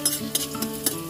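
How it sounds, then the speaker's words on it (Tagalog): Onion sautéing in a pan while being stirred: a steady hiss of sizzling with three quick, bright utensil scrapes against the pan, close and without talk. "So, mix natin ang ating sibuyas."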